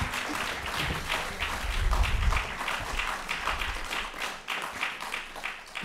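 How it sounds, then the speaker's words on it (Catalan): Audience applause after a poetry reading at a Montserrat Abelló centenary event, a sustained patter of many hands clapping in a room, moderately loud and steady with slight swells. "Mira els aplaudiments"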